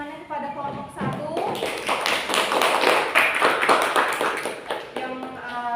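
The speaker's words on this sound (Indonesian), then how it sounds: "Boleh beri tepuk tangannya kepada kelompok 1" A classroom group applauds together, a dense patter of many hands clapping close by for several seconds, with voices talking around it.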